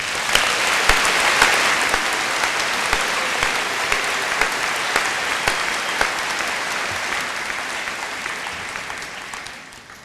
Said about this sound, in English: join me in recognizing that with a big round of applause